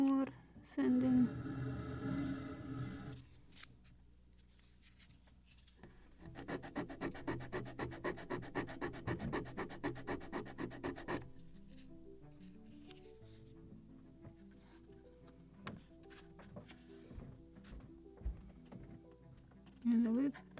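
Wooden parts from a Model Shipways kit of the 1776 gunboat Philadelphia are sanded by hand, with bursts of close rhythmic rasping strokes, a longer fast run of even strokes in the middle, and softer handling noises around them.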